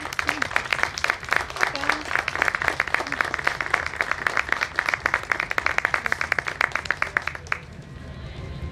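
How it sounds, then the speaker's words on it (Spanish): An audience at a homemade bread contest awards ceremony at a cultural centre claps loudly, with sharp, dense, individually distinct claps that continue steadily for about seven seconds before stopping abruptly, leaving a quiet room. "Fuerte el aplauso."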